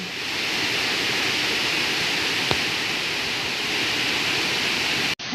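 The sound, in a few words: Twin Waterfall cascading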